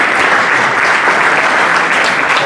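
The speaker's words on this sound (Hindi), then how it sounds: "अपने भाइयों के लिए ताली बजाओ" Loud, close, continuous clapping from a youth audience at a university happiness conference in Indore, a thick uniform wash of many hands with no pauses and no talking.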